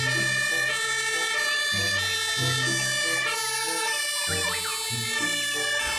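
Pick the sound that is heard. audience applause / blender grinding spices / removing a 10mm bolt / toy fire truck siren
toy fire truck siren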